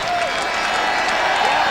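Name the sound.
boxing crowd applauding fighter Mitchell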